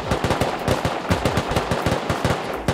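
A Thompson submachine gun in the video game Rust fires in rapid, close, loud bursts of evenly spaced shots, filling the whole moment with no talk.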